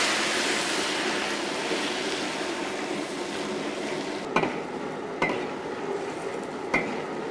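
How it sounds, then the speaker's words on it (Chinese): Side vegetables are dropped into a wok with leftover hot oil for pineapple sweet-and-sour pork, sending up a broad sizzle that slowly fades, punctuated by three sharp metallic clinks. "锅头留底油，然后把配菜倒进来。"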